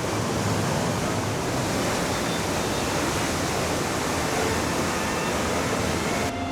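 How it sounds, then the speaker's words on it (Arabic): Trümmelbach waterfall in the Swiss mountains roars as a loud, steady wash of falling meltwater, broadband and unbroken throughout with no voices. "هذا شلال رومنباخ"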